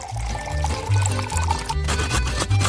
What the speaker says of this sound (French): je dois verser de la crème fouettée dans une poêle profonde